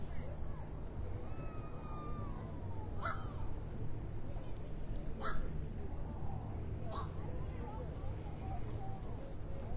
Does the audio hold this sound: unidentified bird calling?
yes